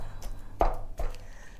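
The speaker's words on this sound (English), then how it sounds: "when you hear them chopping chicken" Knife or cleaver chopping chicken on a board for halal chicken over rice, two sharp chops about a third of a second apart, close and fairly loud over a low background hum.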